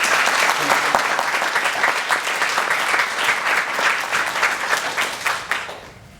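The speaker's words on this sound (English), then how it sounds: "Let's give them a hand of applause." An audience at a university panel discussion on the Aam Aadmi Party, held at UC Berkeley, gives sustained applause, dense and steady throughout before tapering off at the end.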